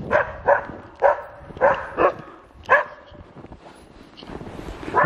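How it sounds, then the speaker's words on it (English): Sled dogs bark outdoors, with about seven sharp, moderately distant barks in an uneven rhythm followed by quieter yips and whines. "Let's look at the doggies."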